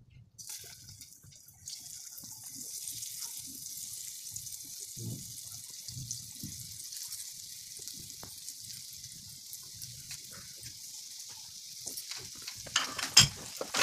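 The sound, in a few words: potato slices frying in oil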